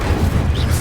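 A fire spell cast in the video game Hogwarts Legacy lets out a loud, dense burst of roaring, rumbling noise that carries on steadily for under a second.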